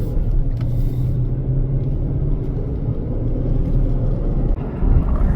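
A Chevy pickup truck engine rumbles low and steady from inside the cab, a modest rise in level marking the throttle being given gas, with no talking.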